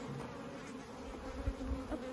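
Local honeybees buzz around a hive as someone handles a frame drawn out without a wax foundation sheet, the buzzing steady and fairly faint, with a few louder passes close by.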